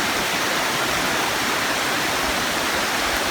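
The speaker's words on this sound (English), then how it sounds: "where that little creek runs out" Creek water rushes through Pine Creek Gorge in a loud, steady, unbroken roar with no other sounds on top.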